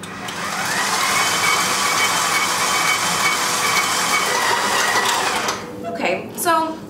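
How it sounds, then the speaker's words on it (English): A stand mixer with a paddle attachment runs steadily on medium, mixing whole wheat bread dough with a loud, even motor whir and churning hiss, then slows and stops, followed by a brief voice. "We're just gonna mix it on medium until kind of a smooth dough forms"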